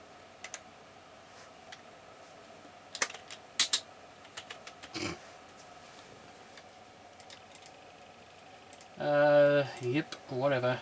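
Someone types a name on a Windows 98 computer keyboard, with sparse, scattered key clicks over a quiet room hum, followed by a person speaking at the end.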